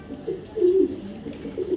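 A male Gorra pigeon coos nearby in a few low rolling bursts, the middle one loudest, with quiet gaps between.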